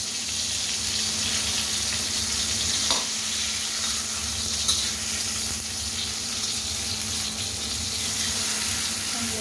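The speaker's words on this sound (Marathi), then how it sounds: "अशा प्रकारे टोमॅटो छान असा भाजून घ्यायचा पहा" A tomato roasts in a pan, giving a steady, close, dense sizzle that holds level throughout, with a couple of faint clicks and no voices.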